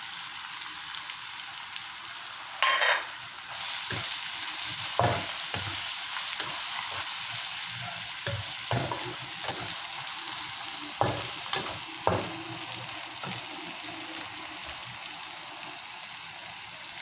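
Raw jackfruit stir-fry sizzling steadily in a pan as turmeric goes in, with repeated sharp scrapes and knocks of a spoon stirring, close and continuous with no talk.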